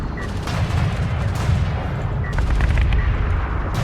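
Railguns and bombs fire in a space strategy video game battle, a dense loud barrage of rapid booming shots and explosions layered continuously.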